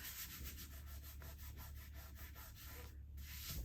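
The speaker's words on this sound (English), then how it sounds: "I'm using a vinyl squeegee that I have to burnish it" A vinyl squeegee burnishes craft vinyl in rapid, even back-and-forth rubbing strokes, a soft continuous scraping heard close up with no talk.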